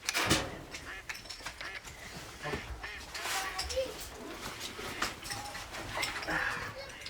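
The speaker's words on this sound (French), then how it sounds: "Des canards d'élevage sont disposés un peu partout sur le plan d'eau. Leurs chants vont attirer leurs cousins sauvages." Farmed decoy ducks set out across a hunting pond quack and honk in a busy, overlapping chorus at close to middle distance, with wind and splashing around them and a voice talking over parts of it.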